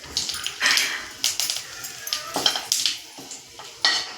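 Fennel, cinnamon, cloves and bay leaf frying in hot oil, with bursts of sizzle and spatter alongside scraping and stirring clinks of a utensil in the pan, close and fairly loud.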